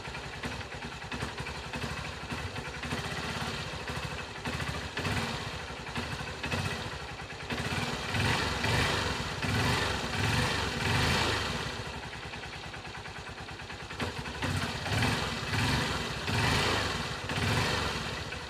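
A Honda CB 125 E motorcycle engine idles steadily up close during a carburetor air adjustment, a continuous throbbing putter whose level swells and eases slightly over time.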